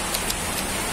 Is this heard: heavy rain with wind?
yes